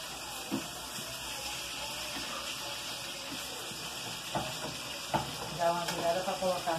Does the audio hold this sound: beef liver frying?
yes